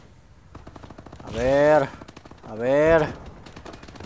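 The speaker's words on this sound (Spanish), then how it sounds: "nada más veo que llueven balazos, pero nada" Rapid automatic gunfire from the video game Call of Duty: Advanced Warfare rattles steadily throughout, with two louder drawn-out bursts standing out and someone briefly speaking over the shooting.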